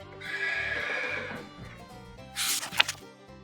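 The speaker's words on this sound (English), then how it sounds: "Horses say, "Neigh."" Horse on a farm giving a clear, close whinny that rises and trails off, followed by a snort and faint clip-clop sounds, with no talk.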